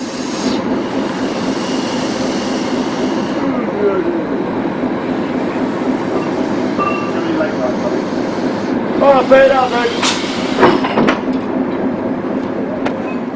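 A Stanier steam locomotive runs on the Barry Tourist Railway, a steady rumbling train sound with rhythmic rolling throughout and a few brighter clanks near the end. A narrator speaks over it.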